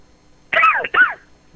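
A single harsh cough bursts out in two quick, rasping pulses, close and fairly loud, with quiet before and after.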